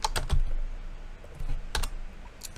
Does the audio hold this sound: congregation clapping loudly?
no